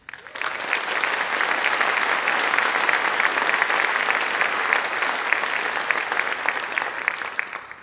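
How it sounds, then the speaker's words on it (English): Concert audience at El Camino College's 75th anniversary Diamond Jubilee concert giving a sustained round of applause, a dense, even clapping that rises quickly and holds steady throughout. "Let's give the college a round of applause."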